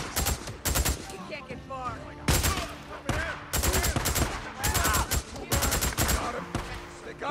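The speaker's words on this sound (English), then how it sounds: "Wish I could just casually hold my ear whenever I'm getting shot at." Bursts of rapid gunfire in the video game Days Gone, several loud volleys of automatic shots in quick succession over about seven seconds, with someone speaking briefly between them.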